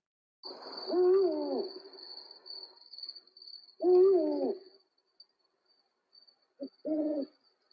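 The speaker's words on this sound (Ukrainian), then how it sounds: "І сови перегукуються одна з іншою." Owls hoot back and forth in two long calls, then a short pair of hoots, with a thin insect whine running constantly behind them.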